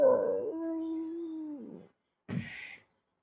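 A man mimics a dog's drawn-out, whining howl, followed after a short gap by a brief breathy yelp, close and moderately quiet.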